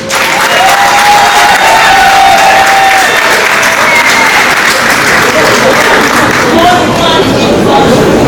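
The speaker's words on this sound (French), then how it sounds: "on accompagne encore une fois par les applaudissements" Loud, steady applause from a crowd at a corporate event welcoming a speaker to the stage, dense clapping sustained throughout with faint cheering mixed in.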